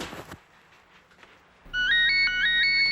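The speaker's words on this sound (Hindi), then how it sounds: "मैम फोन आया आपका।" A mobile phone ringtone on a Hindi TV serial set plays loud and close as a bright, repeating electronic melody. It starts suddenly after a quiet stretch of room tone and keeps ringing steadily.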